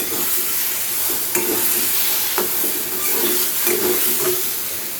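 Shrimp heads and green bean paste frying in a hot pan, a steady close sizzle and hiss with occasional stirring scrapes and bursts, continuous with no talking.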